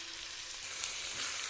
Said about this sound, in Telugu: పోపు అంతా బాగా వేగిన తర్వాత మిక్సీ పట్టుకున్న ఉసిరికాయ పేస్ట్ని కూడా ఈ పోపులోకి